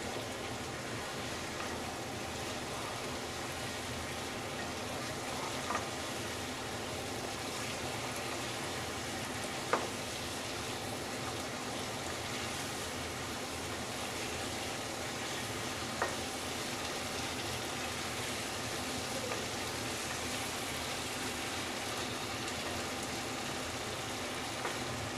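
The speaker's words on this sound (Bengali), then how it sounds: "বন্ধুরা ম্যারিনেট করা চিকেনগুলো দিয়ে আমি ভালো করে মিক্স করে নিয়েছি।" Marinated chicken pieces for a Bengali potato chicken curry frying in a pan over a medium gas flame, with a steady, even sizzle throughout and a few faint clicks of stirring, no voices.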